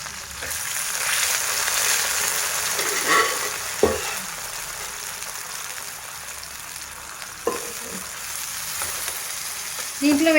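Potatoes fry in oil on a low flame, giving a continuous loud sizzle, with occasional sharp knocks and scrapes as the pieces are turned to brown on both sides.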